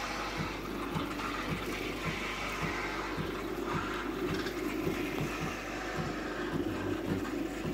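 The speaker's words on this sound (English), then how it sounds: "So I'll get the milk underway, and it's starting to steam that." A Nespresso Vertuo Next machine froths milk into its pour-over carafe, giving a steady near, low hiss and gurgle with faint rhythmic pulsing throughout.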